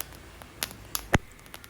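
Rice grains roasting in a pan give a few sharp, scattered pops and crackles close by, irregular and sparse, with one louder crack standing out against a quiet background.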